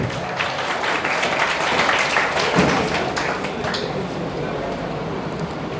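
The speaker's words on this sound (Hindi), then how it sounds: "तालियां बजनी चाहिए" Students and an audience at a coaching class clap together, a brisk burst of applause that swells then eases, with a voice speaking over it.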